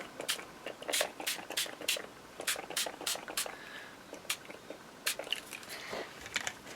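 Forest Moss spray is spritzed onto a junk journal page in a rapid series of short, hissy bursts with brief pauses between them, while someone talks quietly.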